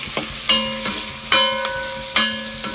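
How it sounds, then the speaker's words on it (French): Onions frying in a hot pan for a prawn and brèdes dish, a sizzling hiss broken by several sharp metallic stir scrapes and clanks, close and fairly loud. "Comme ça, les oignons dedans."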